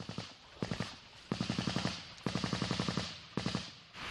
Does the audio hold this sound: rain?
no